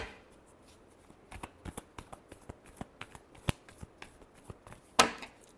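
Tarot cards are shuffled by hand in a rapid run of crisp riffling snaps and flicks, with one sharp louder slap near the end, alone without talk.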